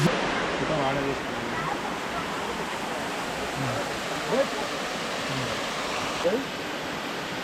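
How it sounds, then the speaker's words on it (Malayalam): Pambar Falls, a waterfall in Kodaikanal, heard as a broad, steady rush of falling water close by, with faint brief voices in the background. "ഇതാണ് നമ്മുടെ കൊടൈക്കനാലിൻ്റെ പാമ്പാർ ഫോൾസ് കേട്ടോ"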